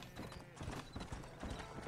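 A horse's hooves clip-clop at a steady trot in the Red Dead Redemption video game, rhythmic close thuds repeating evenly, with a faint whinny and some quiet talk in the background.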